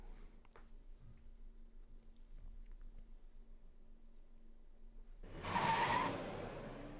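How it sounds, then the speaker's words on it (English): A vehicle engine sound effect plays in a voice-acted Arknights story scene: a faint low hum for several seconds, then a sudden loud rushing roar near the end with no voices. "Yeah, this engine sound is banging."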